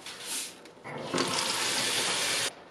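Tap water runs and splashes as eggs are washed under the faucet, a short burst first, then a brief lull, then a stronger, steady gush that cuts off abruptly.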